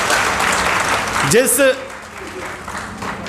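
Applause from an audience at a social organizations' joint-front meeting, a broad crowd clapping throughout under and around a speaker's voice, fairly loud and steady with a brief swell midway.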